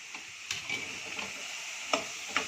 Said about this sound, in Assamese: এইবাৰ আদা নহৰুখিনি পেষ্ট কৰি লোৱা হৈছে, এইখিনি দি দিলোঁ। তাৰ লগত জলকীয়া দিছোঁ।